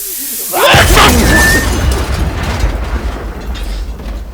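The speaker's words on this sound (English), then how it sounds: "I'll add like explosion sounds" A loud, sudden blast erupts and then decays into a long rumbling, crackling roar, like a big explosion effect.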